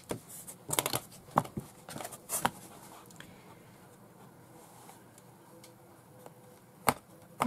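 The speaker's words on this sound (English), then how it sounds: "So, I'm going to cut a piece." Scissors cut a piece of printed paper for a journal, with a few sharp, quiet snips in quick clusters early on, then a lull of soft rustling and one last crisp snip near the end.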